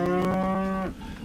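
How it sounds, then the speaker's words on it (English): A single long, loud moo from cattle in the Farthest Frontier video game, held steady for nearly a second and then cutting off. "These are my cattle."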